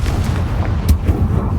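A Confringo spell explodes in the video game Hogwarts Legacy with a short, booming burst and low rumble, loud and close with a sharp crack near the middle.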